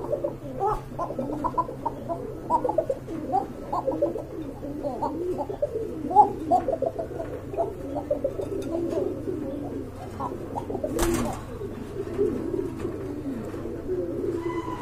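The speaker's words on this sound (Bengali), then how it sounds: "এখানে এক জোড়া কোকা কবুতর দেখতে পাচ্ছেন, চমৎকার ডাক মাশাআল্লাহ খুবই সুন্দর।" Pair of red Koka pigeons cooing, repeated soft rolling coos close by over a low steady hum, with a brief burst of noise near the end.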